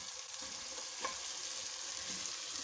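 Fish sizzles and fries in a cooked tomato spice masala for a curry, a steady bright crackling hiss throughout with a faint stirring tap, close and alone without talk.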